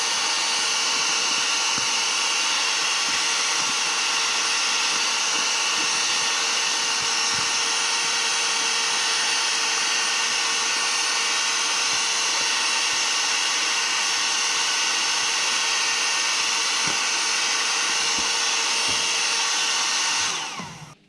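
A heat gun blows steadily while warming TeckWrap Hunter Green vinyl wrap on a Lexus RC F front bumper, a continuous loud whirring hiss that runs unbroken for about twenty seconds before cutting off, with no talking.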